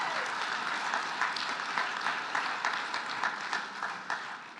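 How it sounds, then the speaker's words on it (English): A large audience at an alumni awards ceremony during homecoming week applauds in a steady, dense round of clapping that carries on throughout without letting up, fading only slightly toward the end. "Can we give them a round of applause?"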